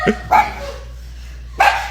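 A dog barks at a hawk overhead: three sharp, close barks, two in quick succession and a third after a short pause, with no speech.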